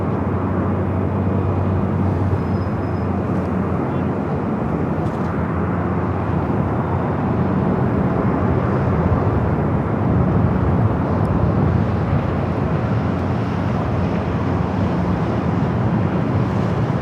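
The A350 known as the Doomsday plane departs LAX, a loud sustained broadband jet roar that fills the whole stretch with steady rumble and wind buffeting.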